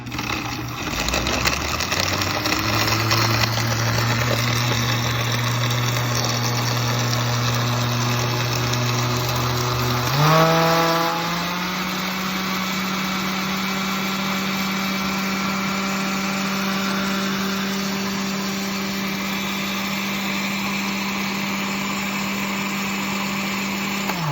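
A blender motor whirs steadily at a constant pitch, then jumps to a higher, louder whine on high partway through and keeps running evenly.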